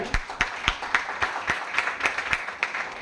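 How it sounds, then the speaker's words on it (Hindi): Scattered hand claps ring out in an irregular rhythm, a modest burst of applause from a small group rather than a big roaring crowd. "मैं चाहूंगा एक बार जोरदार तालियां होनी चाहिए।"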